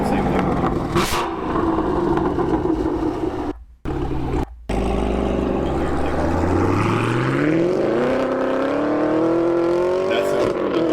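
Camaro SS 1LE with a Corsa exhaust and secondary caps deleted, a loud close engine note with revving, a brief cut-out, then a rising acceleration sweep, with voices talking over it.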